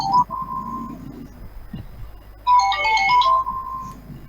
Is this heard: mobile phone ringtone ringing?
yes